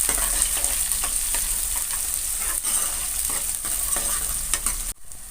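Onions sautéing with fenugreek seeds in a pan for a dry fish gravy, a loud, continuous close sizzle with scattered stirring scrapes, cutting off abruptly near the end.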